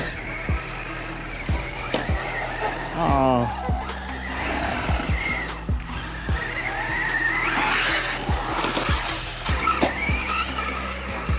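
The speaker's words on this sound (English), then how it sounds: "Playing bumper cars with RCs." Arrma Typhon 6s and Arrma Mojave 6s RC cars bumping into each other and skidding, with repeated sharp knocks, tire squeals and scrabbling across about eleven seconds, plus brief exclamations from people nearby.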